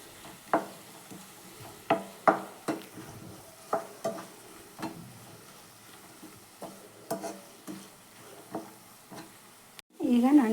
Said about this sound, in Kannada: ಇದನ್ನು ಅಷ್ಟೇ ಹಸಿ ಸ್ಮೆಲ್ ಹೋಗೋವರೆಗೂ ಚೆನ್ನಾಗಿ ಫ್ರೈ ಮಾಡ್ಕೊಳ್ಳಿ